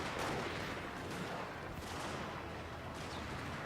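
Continuous battlefield gunfire and artillery booms in the Fall of the Samurai strategy game, a dense, loud rumble of volleys and distant blasts rolling steadily throughout with no talk.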